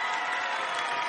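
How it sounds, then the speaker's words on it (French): An audience applauds and cheers in a brief, dense burst, with a loud steady roar of claps all the way through. "Applaudissez encore une fois."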